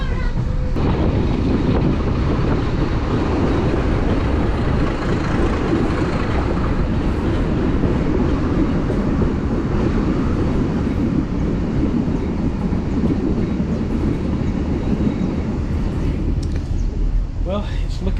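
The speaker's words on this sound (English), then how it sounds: "we're coming to the end of the road on this train journey" Passenger train riding between Durres and Tirana in Albania, heard from inside the carriage: a steady, loud rumble and rattle of wheels and car body continuing throughout, with wind noise over the microphone.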